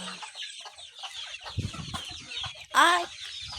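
Chickens cluck in short bursts close by, ending in a louder, rising squawk near the end; no talking.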